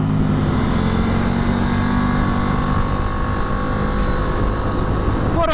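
A 2024 KTM RC8c motorcycle engine roars loud and sustained while riding, a dense steady drone with wind rush and slight pitch shifts throughout.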